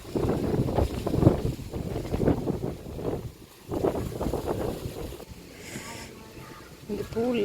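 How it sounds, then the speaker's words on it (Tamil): Strong wind blows outdoors at a hotel near Velankanni Church, buffeting the microphone in loud, gusting rushes that rise and fall. People talk over it and nearby. "ஆமாம்மா, சரியான காற்று."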